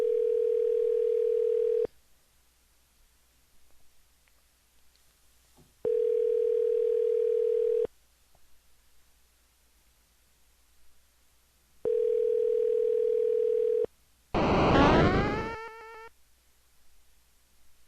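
A telephone ringback tone heard while calling someone back, with three long steady beeps separated by silent gaps. A brief loud chirpy burst follows the third beep.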